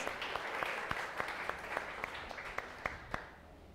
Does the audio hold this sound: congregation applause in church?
yes